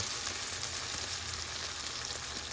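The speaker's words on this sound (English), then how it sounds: "I'm going to add in the coconut milk now" Vegan tofu curry cooking in a pan over high heat with coconut milk going in, giving a faint, even, continuous sizzle and bubbling hiss, close and unbroken, with no voices.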